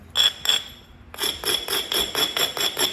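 A sharp flintknapping strike on a large piece of coral rings out twice, pauses, then a rapid series of seven or eight bright, glassy cracking knocks follows in steady rhythm, close and fairly loud.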